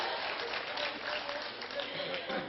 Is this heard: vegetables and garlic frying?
no